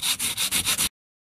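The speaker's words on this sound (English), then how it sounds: "we're preparing the surface and sanding off any coating" Five or six quick rhythmic sanding strokes, a harsh scratchy rasp back and forth over the surface of a plastic RV holding tank, then silence.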